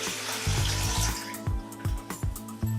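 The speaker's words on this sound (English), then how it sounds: "Now I'm going to pour my 4 cups of filtered water" Filtered water poured from a container into a mixing bowl while making seitan, a steady splashing flow close up, with a few soft knocks and clinks of kitchenware and no talking.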